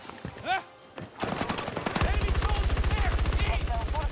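Video game gunfire: a rapid, steady stream of automatic shots kicks in and hammers on loudly to the end, with shouted voices over the firing and sharp effect sounds before it starts.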